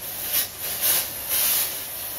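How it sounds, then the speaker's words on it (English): Brake cleaner sprayed onto a rag in a workshop during a 1969 Honda CL160 engine rebuild, heard as three bright hissing aerosol bursts in a row, moderately close, with no talk. "I'm not spraying brake cleaner on a rag"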